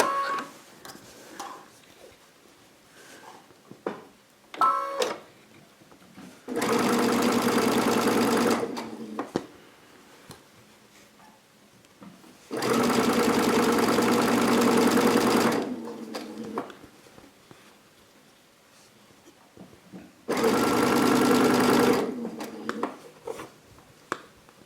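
Sewing machine stitching binding onto a quilted placemat with a quilt binding foot, three loud sustained bursts of rapid stitching separated by quieter pauses with small handling clicks and rustles.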